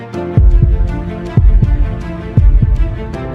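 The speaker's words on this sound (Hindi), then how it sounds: "सबकी धड़कनें तेज थीं" A deep, booming heartbeat thumps in regular double beats, three pairs in a row, loud and close over a low hum.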